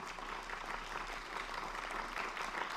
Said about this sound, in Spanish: Y aplauso.